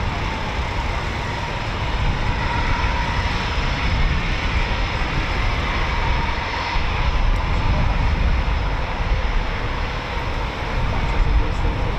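A Eurofighter Typhoon FGR4 jet at RAF Coningsby gives off a loud, steady broadband engine roar that holds evenly throughout, with a voice faintly underneath.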